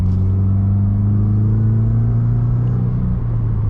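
The engine of a 1991 Mitsubishi Galant rumbles at a steady idle, close and loud, with a deep even drone and no voices over it.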